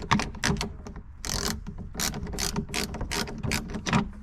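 A ratchet wrench loosens a bolt on the battery of a 2014-2018 BMW X5, quick close clicking bursts in repeated back-and-forth strokes, crisp and loud with no talking.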